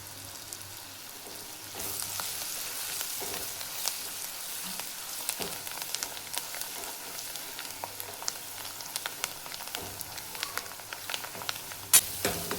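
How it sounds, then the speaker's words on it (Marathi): Spices for a tempering of thick varan dal sizzle in hot oil in a pan, making a quiet, crackling fry with scattered small pops and a louder burst near the end, and no voices. "फोडणी तयार झाली, वरण टाकायचं आहे."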